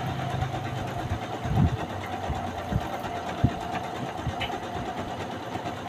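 Toyo Singer sewing machine stitching fabric, a quiet steady mechanical hum and whir with a few soft knocks and clicks, running alone at low volume.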